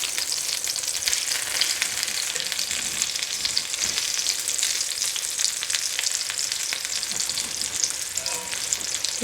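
German schnitzel frying in a pan: a dense, steady, close hiss of hot fat crackling evenly throughout, with faint scattered pops and no talking.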